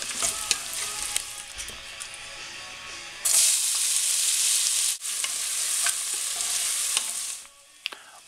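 Onions being added to a hot pan for kale and chorizo soup, sizzling and frying steadily, with a louder burst of hiss partway through and a few scrapes and clicks of stirring. No one speaks.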